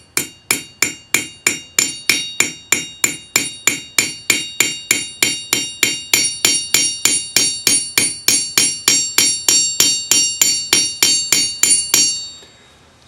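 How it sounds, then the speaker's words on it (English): The small rounded face of a raising hammer strikes the edge of a metal bangle on an anvil, about forty quick, evenly spaced ringing blows delivered up close, each with a bright metallic ring. "I'm going to start with the small rounded side of a raising hammer"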